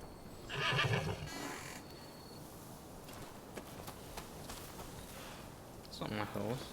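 A horse in the video game Rise of the Ronin whinnies twice, once early and once near the end, with light clicks and hoof-like taps in between.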